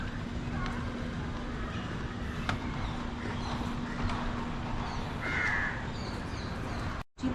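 Crows caw on a forest walkway in Mumbai's Malabar Hills, their calls sounding moderately near among steady outdoor background noise while people talk throughout.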